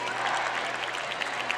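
Steady applause from a crowd at a boys' high school hockey championship in Bedford after an overtime game, a dense continuous patter of clapping with no single clap standing out.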